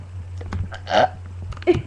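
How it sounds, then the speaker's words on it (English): A girl lets out two short, close burps during a burping contest, a louder one midway and a quicker one near the end, with small mouth noises around them. "I can burp."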